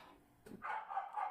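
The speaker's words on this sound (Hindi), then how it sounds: "फिर से कुत्ते भौंकने लग गए" Dogs bark faintly in the distance outdoors, a couple of muffled barks in quick succession behind a quiet room tone during a home maths lesson.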